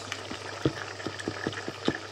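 Butternut squash risotto with bacon and sage bubbling in a pan after water is added, with soft irregular pops and bursts against a low steady hum, close and fairly quiet.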